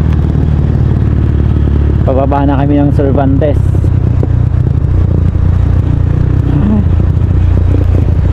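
A motorcycle rolling downhill toward Cervantes, its steady engine rumble and wind noise continuous and close throughout, with someone talking over it.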